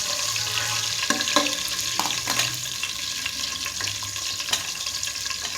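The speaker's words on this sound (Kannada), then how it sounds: "ಇದು ಸ್ವಲ್ಪ ಫ್ರೈ ಆದಮೇಲೆ ಇವಾಗ ಜೀರಿಗೆ ಹಾಕ್ಕೊತಾ ಇದ್ದೀನಿ" Cumin seeds frying in a pan, a soft steady sizzle with scattered small pops and occasional stirring clinks, close and alone without talk.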